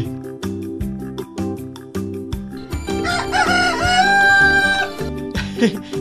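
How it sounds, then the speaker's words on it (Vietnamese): A rooster crows loudly in a long, rising and falling call over steady rhythmic background music in an animated folk-tale cartoon. "gà gáy rồi"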